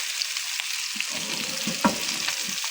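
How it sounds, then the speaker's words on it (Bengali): Pabda fish fry in a pan of hot oil with a steady close crackling sizzle, punctuated by a few sharp clicks and one louder clack of a utensil against the pan, no voices. "এদিকে আমার মাছ ফ্রাই হয়ে আসছে"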